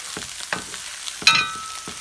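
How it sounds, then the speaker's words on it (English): Minced onion frying in a skillet, a steady close sizzle with soft stirring scrapes and one brighter crackling flare partway through, no voices. "I've added some minced onion to the skillet also"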